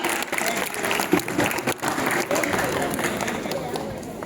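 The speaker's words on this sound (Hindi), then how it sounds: "जोरदार तालियों से स्वागत कीजिए" Audience applause welcoming a young female poet onto the stage at an Independence Day kavi sammelan for students, a steady, dense clapping from a crowd that fills the whole stretch at an even level.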